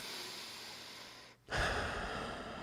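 A person doing a deep breathing exercise, drawing the breath down into the gut: a short quiet pause, then one loud, close, drawn-out breath that fades gradually.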